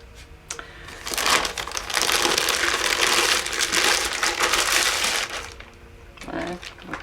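A 25-pound plastic bag of clay is handled up close, with loud crinkling and crumpling of plastic in a dense rustling burst lasting several seconds before easing off.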